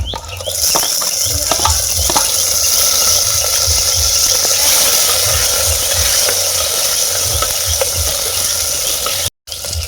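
Garlic and small onions fry in a clay pot, giving a loud, continuous sizzle with occasional stirring scrapes throughout, nearly uninterrupted until a brief cut near the end.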